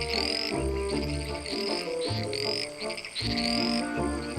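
A male frog calls repeatedly in a wild far-east setting, a close, loud croaking series in a steady pulsing rhythm, with other frog calls layered behind.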